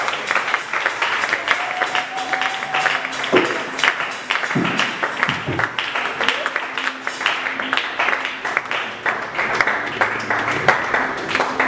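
A church congregation claps and acclaims the Lord: continuous, dense rhythmic applause fills the room, with voices and a sustained tone mixed in underneath.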